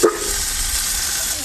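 Tomato dropped into onions frying in hot oil for a village-style mint chicken curry, giving a steady, close sizzling hiss that holds evenly after a brief soft knock at the start.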